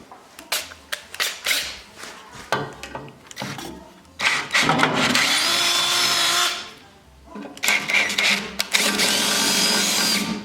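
A power drill bores mounting holes for a Warn winch: short, sharp, stop-start bursts at first, then two longer sustained high-speed runs, loud and close.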